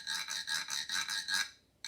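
Rapid rasping scrapes of a mallet along the ridges of a crow percussion instrument, repeated in quick even strokes, close and fairly loud, then a brief pause before another scrape.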